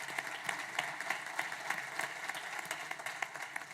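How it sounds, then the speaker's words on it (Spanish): Audience applause at a university leadership talk: a steady patter of many hands clapping, moderately faint and continuous, with no voices over it. "así que también un aplauso para todos"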